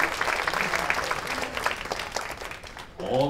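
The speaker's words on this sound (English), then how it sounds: "Big round of applause for Bernice Jones." Audience applause for a performer at a live show, sustained crowd clapping for about three seconds before a voice starts talking.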